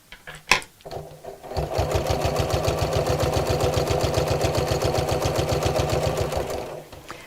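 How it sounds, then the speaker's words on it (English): A sewing machine stitches kraft-tex pieces together, starting after a brief clunk and then running in a fast, even mechanical rhythm of needle strokes for several seconds before stopping, loud and close with no talk. "we just sew them together"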